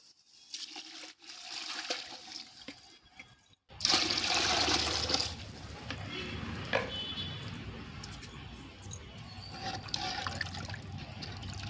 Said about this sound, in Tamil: நம்ம ரெண்டு கப் வந்துட்டு தண்ணி எடுத்துக்க போகிறோம் தண்ணியை ஆட் பண்ணிக்கலாம்